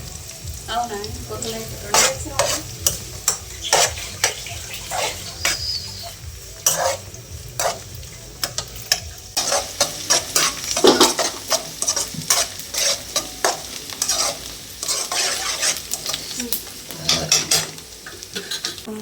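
Onions frying with rock salt in a pan for a dried fish and ridge gourd curry, stirred with a steady run of scraping strokes over a continuous close sizzle, with no one talking.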